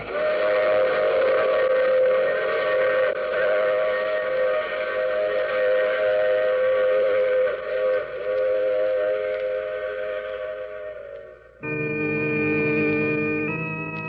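A steam train whistle sounds long and loud over rumbling rail noise in an old radio drama, then shifts to a higher sustained whistle tone near the end.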